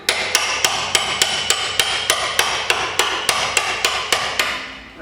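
Steady hammer blows strike a sleeve fused onto Land Rover camper suspension, about thirteen sharp metallic impacts in even rhythm, loud and close, with no voices.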